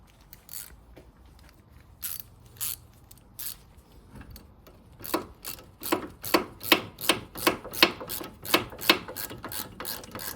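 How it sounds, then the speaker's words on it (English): Small ratchet clicking as it drives a front brake caliper bolt on a 2004 Toyota Prius, a few sparse clicks early, then a steady run of close, crisp, evenly spaced ratcheting strokes with no talk. "So just using a small ratchet here to get the bolt in"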